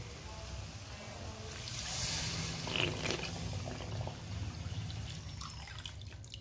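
About one and a half glasses of water poured into a pan of roasted masala gravy for chana dal pakora curry, a steady soft pouring and splashing at close range for several seconds, with no talking.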